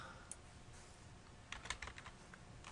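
Quiet keystrokes on a computer keyboard, a few scattered taps early on and then a short cluster of clicks, faint and close with no talking.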